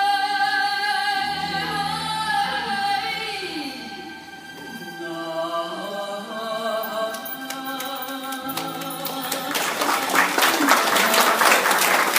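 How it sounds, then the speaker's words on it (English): After sustained sung or played tones from a stage performance, a crowd's applause swells in near the end, a loud burst of many clapping hands rising over the fading music. "Loud applause that really gives us a lot of encouragement and confidence."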